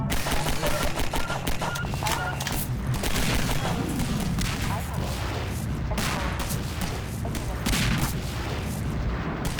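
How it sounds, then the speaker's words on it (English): Missiles launched at the player in Half-Life 2, a continuous barrage of loud explosions and rapid gunfire with rumbling booms, dense combat noise throughout with brief talk over it. "Oh, now they're launching missiles at me."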